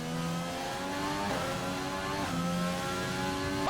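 McLaren race car engine in a racing game, heard from behind at steady high revs with layered harmonic whine, shifting pitch slightly through upshifts and downshifts, continuous and fairly loud with no talk.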